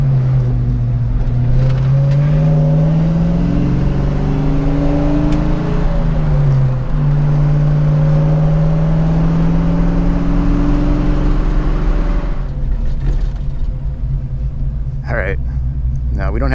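A classic Ford Mustang engine pulls hard while driving, its deep rumble climbing through gears with a shift around the middle, loud and steady from inside the car, then settling to a lower drone with a few clicks near the end.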